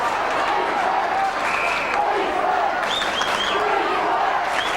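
A Perth football crowd roars steadily at the 2003 WAFL preliminary final between West Perth and East Perth, with sustained cheering, scattered shouts and whistles filling the stadium.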